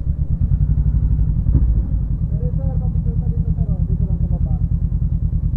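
A motorcycle idles close by with a steady, throbbing low putter while being parked at the Cagsawa Church ruins, and a voice talks over the engine.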